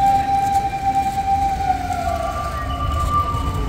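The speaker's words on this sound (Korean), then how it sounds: "소방차가 막 연이어 달려오고 난리가 났어요" Fire truck sirens wail along a city street in Osaka, Japan, wavering tones against traffic noise, with a second siren pitch joining partway through.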